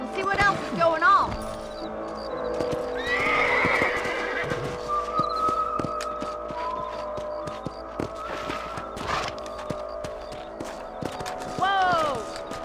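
Horses in the Red Dead Redemption video game neigh and whinny several times, loud and close, with hooves clip-clopping on the ground beneath and a game character's voice talking over parts of it.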